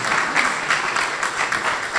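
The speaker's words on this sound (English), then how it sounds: "Let's give a round of applause." An audience at a US trade agreement anniversary event claps in steady, continuous applause, moderately loud and close, with a few brief swells.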